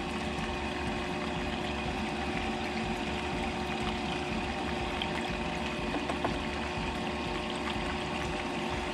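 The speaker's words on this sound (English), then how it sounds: "Just a catch basin, 1100 gallon GPH pump." An 1100 GPH water pump runs steadily in a gold clean-up catch basin, giving a constant, fairly loud whir with rushing, pouring water over the whole stretch and no talk.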